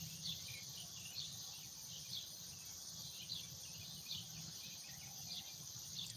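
Evening insect chorus at sunset, cicada-like buzzing pulsing in regular waves over a steady high drone, faint and distant, with a low rhythmic hum beneath and no talk.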